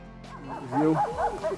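A dog gives a few short, yippy barks and whines close by, with a voice murmuring faintly in the background, in the Hutsul hamlet of Rabynets, Kosiv district, Ukraine.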